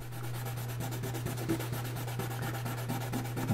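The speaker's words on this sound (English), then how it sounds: "So what you do is you just lightly sand that edge" Light sanding along a putty-filled edge of a Teraminx twisty puzzle, a close, steady, even scratchy rubbing with quick short strokes over a constant low hum.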